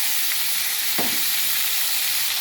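Bitter gourd, onion and green chilli fry in a hot tempering of curry leaves, dried red chilli and garlic, giving a loud, steady hiss of sizzling oil with a brief stirring scrape partway through, and no talk.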